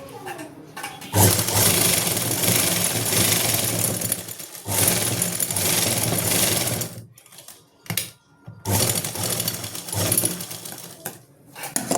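A sewing machine stitching a salwar runs in loud, fast mechanical bursts, stopping and restarting several times with short pauses between runs of stitching.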